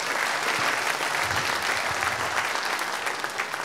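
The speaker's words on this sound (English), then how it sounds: "round of applause for everybody sharing." Audience applause for people who shared at a gathering, a dense continuous wash of clapping that holds steady and even for a few seconds.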